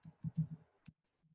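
Faint, irregular clicks of fingers typing on a computer keyboard: a quick cluster of soft keystrokes, then a lone sharper tap and a couple of quieter ones after a pause, with no voices.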